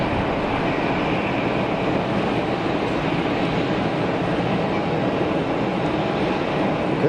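EasyJet passenger jet from Luton landing at Geneva Airport, heard as a steady, loud, broadband engine roar that holds without a break, close by, with no talking.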